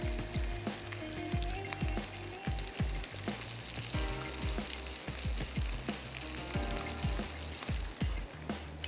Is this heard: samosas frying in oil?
yes